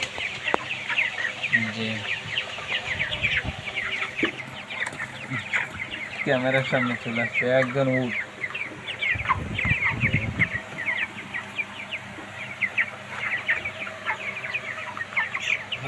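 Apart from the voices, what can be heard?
broiler chickens clucking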